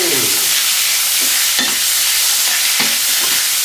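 Asparagus sautéed over high heat sizzles steadily and loudly in the pan, with repeated soft stirring scrapes every second or so.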